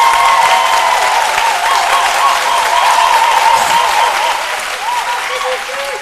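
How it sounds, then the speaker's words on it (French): A studio audience on a midday television program applauds loudly and continuously, with a voice talking over the dense clapping throughout. "Gros applaudissements, merci d'être là."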